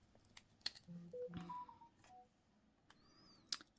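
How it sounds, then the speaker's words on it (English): A mobile phone sounds a notification of short tonal beeps and chirps, quiet against a hushed room with a few soft clicks. "that was my phone"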